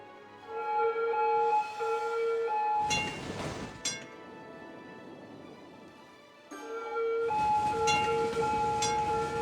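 Trams running in the Cities: Skylines city-builder game: a steady rail rumble with ringing metallic tones and squeals, surging loudly in two long passes with a quieter rolling stretch between.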